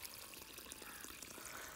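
Water gushes fast and steadily from a pipe, a continuous hissing rush heard faintly at a distance without any voices.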